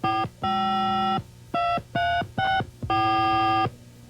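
Touch-tone telephone keypad dialing a phone number so the DTMF tones form a tune: a string of loud, clean electronic beeps of varying pitch and length, some short and some held, in a rhythmic melodic sequence.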